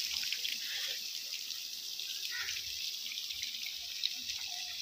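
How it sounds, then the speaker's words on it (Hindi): Fresh water from a broken pipe sprays and trickles steadily for livestock on a farm, a continuous hiss with a faint constant rush and no voices. "चलो हल्का हल्का पानी आ रहा है शावरिंग के साथ, चलो जानवर पानी पी रहे हैं"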